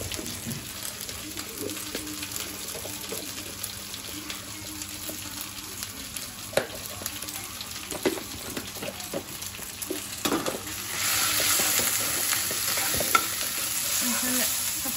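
Spice paste with ground masala frying in a pan and being stirred, steady sizzling with scraping spoon strokes throughout, growing louder and more hissing toward the end.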